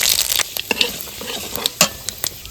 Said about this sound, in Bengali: দুটো তেজপাতা চিড়ে দিচ্ছি এই পাঁচ ফোড়নটা ফোড়ন দিয়ে দিচ্ছি